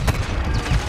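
Video game gunfire: a quick, loud burst of shots with sharp cracks and booming low thuds packed into under a second.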